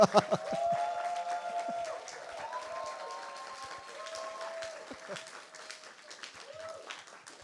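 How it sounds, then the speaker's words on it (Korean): A church youth group applauds staff members in a soft, scattered patter that tapers off, with sustained tonal sounds ringing over it. "박수로 해주시다"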